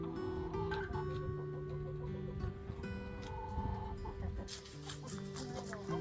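Backyard flock chickens cluck and murmur close by, with overlapping calls and a few brighter squawks rising toward the end, a busy layered chorus of hens at moderate level.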